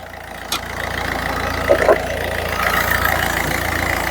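A 2012 Ford Figo diesel car engine idling nearby, a steady low rumbling drone with a faint rhythmic clatter, plus a few brief knocks and clicks over the top.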